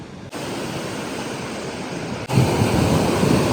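Morning ocean surf breaks on a beach at Montauk, New York, a loud, steady roar of crashing waves with wind buffeting the microphone, surging louder near the end, no voices.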